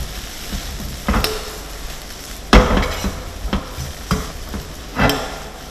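Glass noodles stir-fried with crab, chopped onion and culantro, the spatula scraping and tossing in a few distinct bursts over a steady low sizzle, close and fairly loud, with no talk.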